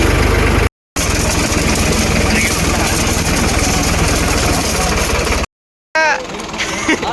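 Mahindra Arjun Power King tractor engine running steadily at close range, a loud continuous idle-like rumble with a short cut in the middle; voices are heard alongside.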